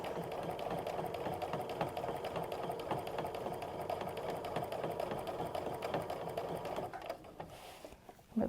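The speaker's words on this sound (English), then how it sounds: "So I like to always quilt about an inch or so in from either side." Sewing machine quilting straight lines along a ruler, a steady rapid needle chatter and motor hum close by, slowing and stopping near the end.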